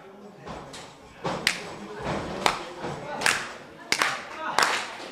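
A wrestling crowd claps in rhythm for Jay Freddie at a Beyond Wrestling show, the claps mixed with thuds from the ring and commentators talking over it.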